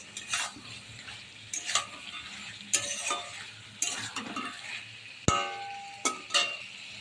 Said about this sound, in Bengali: এবার আলুগুলোকে মশলার সাথে ভালোভাবে কষিয়ে নেব।